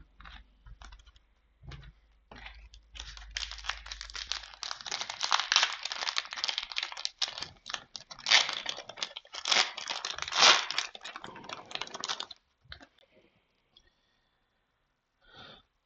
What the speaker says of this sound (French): Et ben on va s'ouvrir les 5 boosters restants ensemble.